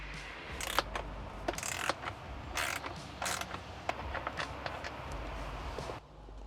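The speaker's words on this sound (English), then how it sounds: "as I'm taking these bolts out, I'm just going to set them in the cup holder" Bolts being unscrewed from a Tesla Model 3 screen mount, with a series of close, sharp creaks and metallic clicks in irregular bursts over a quiet background.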